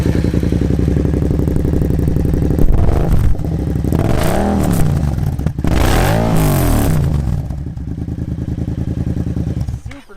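A Yamaha FZ-07 motorcycle with an aftermarket exhaust idles with a deep throaty rumble, then revs hard twice in rising and falling surges before settling back to a loud idle.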